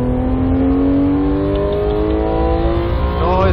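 Porsche 911 GT3 MKII engine at the Red Bull Ring circuit, a loud close in-car drone with the engine pitch climbing steadily under acceleration, then a quick shift near the end.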